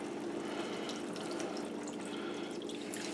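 Steady stream of water pouring and splashing into a cooking pan of beef tips, continuous and fairly quiet, close by.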